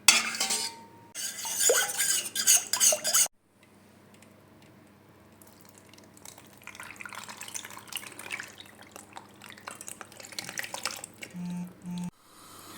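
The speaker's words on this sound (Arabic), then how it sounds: "هلا هون بدوب دبس البندورة كتير منيح بالمي" Tomato paste being stirred into water with a spoon in a pot while cooking Aleppo-style stuffed vegetables, a busy clatter and scraping at first, then quieter soft swishing and occasional clinks, with no talk.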